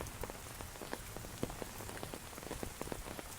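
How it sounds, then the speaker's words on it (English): Heavy rain pelts an umbrella on a foggy hike up Hong Kong's Peak, a dense, steady patter with sharper individual drop hits scattered throughout, close and continuous with no talking. "Yeah, it's a big hard rain."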